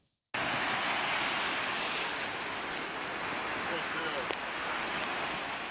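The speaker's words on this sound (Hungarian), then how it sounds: "Elemi erővel zúdul a jégtömeg délfelé a Tisza észak-magyarországi szakaszán." River ice drift pouring south along the northern Hungarian stretch of the Tisza, heard as a steady loud roar of rushing water and grinding ice, constant after a short silent start with one brief crack near the end.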